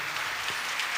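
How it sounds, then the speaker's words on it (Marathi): Clapping from an audience at a children's devotional song programme, a steady even patter over the whole short stretch, moderately loud and without voices. "टाळ्यांचा आवाज कमी पडतोय बरं का"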